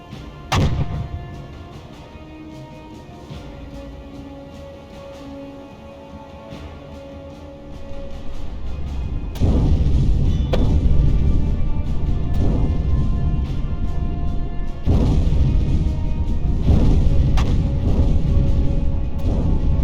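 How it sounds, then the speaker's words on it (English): Deep booming depth charge blasts from British escorts in the submarine game UBOAT, heard dull and muffled at a distance, with a sharp thump early on and then rolling, sustained low rumbles building louder through the second half. "The British are firing depth charges, but they're nowhere near me."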